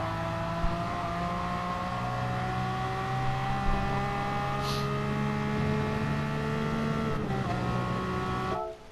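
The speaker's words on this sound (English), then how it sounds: "as soon as we pass that second apex, we can start go full throttle" An N300-class car engine in a Gran Turismo-style racing game at Dragon Trail Gardens drones at high revs under full throttle, its steady harmonic whine holding and climbing, then breaking briefly for a gear change before cutting off.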